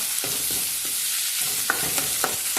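Onion, garlic, tomato and chillies frying for a tadka in a pan for saag, a steady hiss of sizzling with a few soft stirring scrapes, alone and close.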